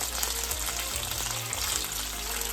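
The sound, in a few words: mixed pepper and onion frying together in pan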